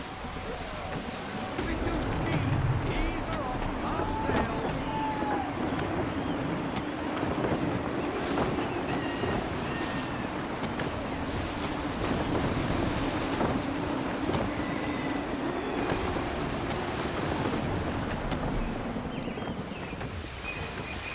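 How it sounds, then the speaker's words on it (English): Gusty wind and ocean waves buffet a sailing ship at sea in Assassin's Creed III Remastered, a continuous full roar of wind and surging water with faint creaks and occasional whistling tones throughout. "Wind looks to be shifting. Stay alert, Connor. Gusty winds can be difficult to manage."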